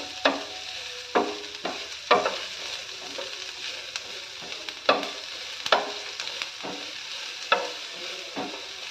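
Vegetables frying in a pan as filling for egg chapati rolls, a soft continuous sizzle punctuated by sharp spatula knocks and scrapes at irregular intervals, close by.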